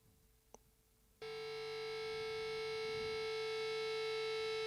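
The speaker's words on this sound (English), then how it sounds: "And then I added this little feedback thing after that." A sustained guitar feedback tone in a song mix, rising abruptly after a brief faint blip and then holding steady and loud with a bright, whining edge.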